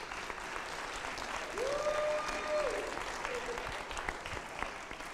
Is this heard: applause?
yes